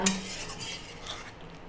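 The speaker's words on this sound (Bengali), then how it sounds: "একটুখানি কষাবো, তারপর দেখাবো" An eggplant dish sautéing in a pan, with a brief utensil clink followed by soft stirring scrapes over a low sizzle, close and fairly quiet.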